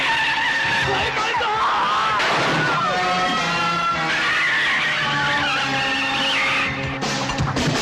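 A car brakes hard and skids during a chase scene in a 1994 Hindi film, with tyres squealing loudly and continuously for several seconds over engine noise.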